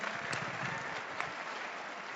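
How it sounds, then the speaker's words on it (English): Steady applause from a crowd at a Martin Luther King Jr. birthday celebration event, a dense even patter of clapping that holds at one level throughout. "Let's all give them a round of applause."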